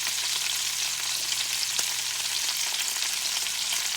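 Pork chops fry in a pan, browning to golden, giving a steady, close hiss and crackle of sizzling fat with occasional sharper pops, continuous throughout with no talking.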